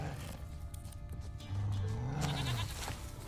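A goat bleats once in the Witcher 3 video game, a drawn-out wavering cry rising and falling over a steady game soundscape.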